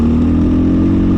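A 2020 Husqvarna FE501s dual sport motorcycle engine pulling in third gear, a loud, close, steady single-cylinder drone with a thumping low pulse throughout the brief moment.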